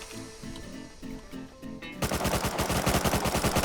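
Gunfire in the video game Rust: a few spaced single shots give way to a loud, rapid automatic burst of evenly paced rounds that runs to the end.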